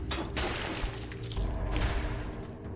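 Explosion from the video game Dead Cells, a dense burst of loud crashing, booming blasts and gunfire-like crackle lasting a few seconds, with no voices.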